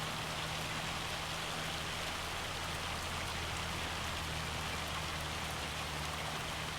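In Farming Simulator 25 on the Judith Plains, Montana map, a hailstorm pours down as a continuous wash of rattling, hissing impacts over a faint low drone, even and subdued throughout.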